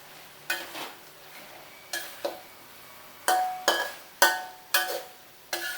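A spatula scrapes and clanks against a wok in repeated strokes while stir-frying red curry with shrimp, long beans and kaffir lime leaves, faint sizzling underneath between the sharp metallic stirs.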